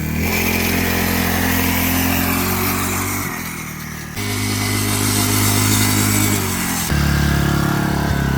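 A small X-PRO 40cc four-wheeler engine runs loud and close with a buzzy, high-revving drone that dips briefly as the throttle eases, then surges back up.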